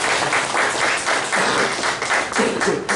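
A church congregation gives a warm round of applause for the Sunday school teachers, dense and loud clapping filling the hall throughout.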